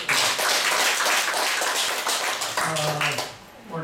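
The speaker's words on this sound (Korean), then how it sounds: "격려 박수 부탁드립니다." An audience at a Korean lecture gives a sustained burst of clapping, dense and loud throughout before tapering off, with a voice starting to speak under the fading applause.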